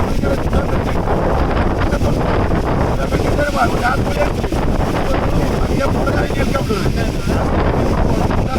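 Strong wind from Cyclone Yash roars and buffets the microphone in a constant loud rush, with muffled, indistinct voices faintly underneath.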